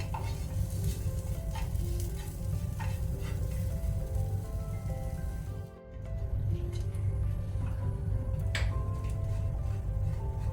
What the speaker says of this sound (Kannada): ಸಣ್ಣ ಮೀನಾದ್ರಿಂದ ಬೇಗನೆ ಫ್ರೈ ಆಗುತ್ತೆ, ಜಾಸ್ತಿ ಟೈಮ್ ತಗೊಳ್ಳಲ್ಲ ಫ್ರೈ ಆಗಲಿಕ್ಕೆ